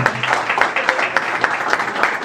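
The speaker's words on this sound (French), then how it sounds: "Sous vos applaudissements, mesdames, messieurs." An audience at the 125th anniversary conference of the FDSEG in Cap-Haïtien breaks into applause: dense, continuous clapping with crisp individual claps standing out, fairly loud and close, with little talk.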